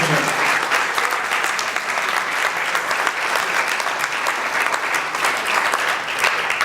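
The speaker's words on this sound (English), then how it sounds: "Let's give him another round of applause" An audience applauds a military veteran at a gathering with steady, full clapping that carries on evenly for several seconds, loud and close.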